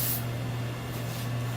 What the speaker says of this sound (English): Spray it about 1 inch onto the wood.